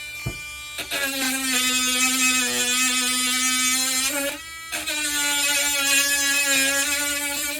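A small Dremel drum sander grinds against a wooden guitar headstock, a loud steady high-pitched whine with a brief dip midway before resuming, close and continuous with no talk.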